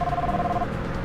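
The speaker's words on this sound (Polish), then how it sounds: "Znowu telefon." In the driving game Wheelman, a phone rings with a steady electronic tone that stops partway through, heard over low game background noise.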